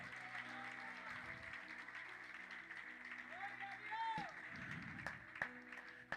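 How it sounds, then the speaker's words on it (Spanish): Church congregation applauding during a service, a fairly quiet wash of clapping mixed with sustained musical tones and some voices, swelling briefly near the middle before settling. "Pueden darle un aplauso también."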